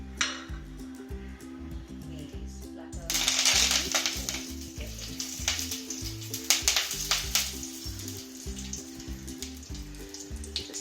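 Sautéing in coconut oil for chicken sukka, a broadband hiss of sizzling that swells suddenly and stays steady, with a looping low background music bed underneath.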